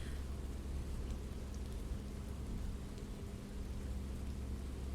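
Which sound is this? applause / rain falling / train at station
rain falling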